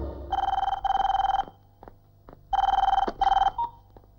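An outgoing phone call rings on the line in a comedy scene, loud repeated double-burst ringback tones with a short pause between pairs.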